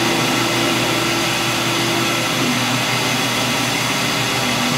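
Metal lathe driven by an electronic leadscrew taking a turning pass, removing about half a millimetre; a loud, steady whirring motor drone with a faint pitch shift midway, continuous and close.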